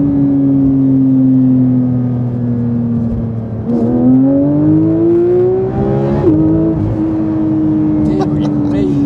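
A Porsche 992 GT3 with a naturally aspirated engine hums loud and near while driving, its pitch rising and falling through gear changes, with engine tone continuous and prominent in the cabin.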